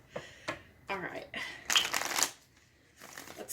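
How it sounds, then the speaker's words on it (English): Tarot cards riffle and shuffle in a few quick bursts, close and crisp, with soft talking in between. "Let's shuffle these 3 times just to be sure."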